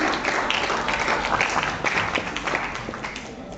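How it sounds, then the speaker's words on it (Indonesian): Audience applause at a candidate debate for paired election contenders, a dense wash of many hands clapping steadily and fairly close for several seconds, with a faint voice mixed underneath. "Boleh dikasih tepuk tangannya dulu"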